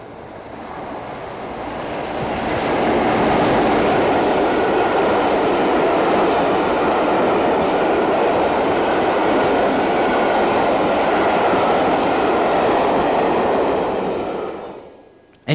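An empty coaching stock train passes, heading from a yard to Ascot for a race special: a steady, loud rolling rumble that swells over a couple of seconds, holds, then cuts off near the end.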